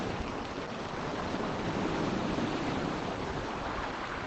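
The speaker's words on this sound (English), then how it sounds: "We are actually right by those waves." Ocean waves break and wash steadily onto a beach at sunset, a continuous broad roar of surf with wind buffeting the microphone throughout, no voices.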